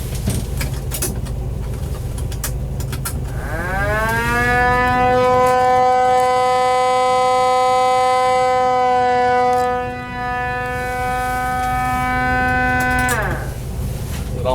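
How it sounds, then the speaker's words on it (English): Siren of a 1955 Plymouth Belvedere patrol car winding up from a low growl to a loud, steady wailing tone, holding for several seconds and then winding down again, over a constant engine rumble. "see if we can get the horn or the siren working."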